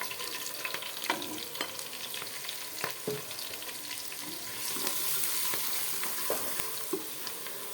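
Spices — salt, turmeric, chili powder, cumin and garam masala — sizzle steadily in a hot pan for spicy pulao, with scraping stir strokes and occasional clinks over a constant frying hiss, close and fairly loud.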